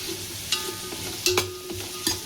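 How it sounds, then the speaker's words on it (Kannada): Onions frying in a pan for biryani gravy, a steady soft sizzle broken by several sharp scraping stirs of a spoon against the pan, close and alone. "ಈರುಳ್ಳಿ ಚೆನ್ನಾಗಿ ಫ್ರೈ ಆಯಿತು."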